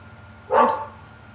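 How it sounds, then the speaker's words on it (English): A single sharp dog bark rings out indoors, close and fairly loud, a brief burst against a quiet background. "I apologize for the non-stop barking"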